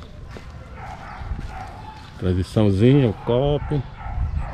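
Dogs bark in a quick burst of several yips and barks at moderate distance, mixed with someone talking over outdoor background noise.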